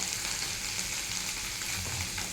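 Spices with salt, turmeric and cumin powder stir-fry in a pan for a potato, ridge gourd and onion poppy-seed dish, giving a steady, dense, close sizzle throughout with no pauses and no voices.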